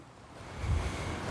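Strong outdoor wind buffets the microphone in a low, rumbling gust that swells midway and stays loud, with no voices.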